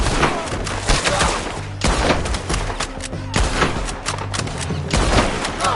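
Repeated gunfire bursts from Red Dead Redemption 2 on PS4, several volleys of shots crackling loudly over an ongoing game score with low droning music, a busy firefight.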